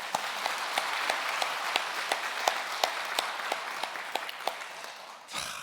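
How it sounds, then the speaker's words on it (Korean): A church congregation at a Sunday worship service claps in thanks, a full, even round of applause with evenly spaced, rhythmic claps in unison that runs steadily before ending abruptly. "이것도 우리 감사의 박수를 한번 올리십시다"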